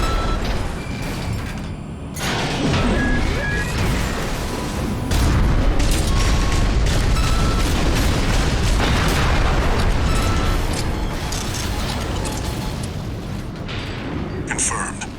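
Heavy explosions as mechs are destroyed in Armored Core VI: Fires of Rubicon, a loud sustained barrage of booms and bursts that fills the clip, with game voices speaking over the blasts.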